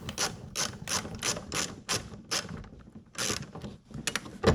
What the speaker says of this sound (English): you'll remove 3 10mm bolts from underneath for the air reflector